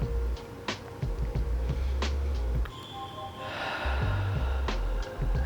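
Slow, deep breaths drawn in and let out in a yoga class, each inhale and long exhale audible and close, with soft hissing air and a low steady hum underneath, no talking.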